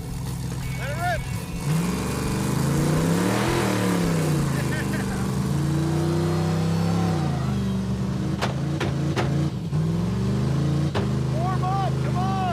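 An off-road race truck's engine revs hard and roars close by, rising and falling in pitch over a steady loud drone.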